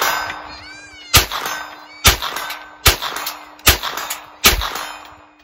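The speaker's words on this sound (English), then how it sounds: "Let's go ahead and do some more shooting with this." Ruger PC Charger pistol shots fired outdoors, five loud sharp reports at a steady pace under a second apart, each with a ringing metallic tail over a constant background hum.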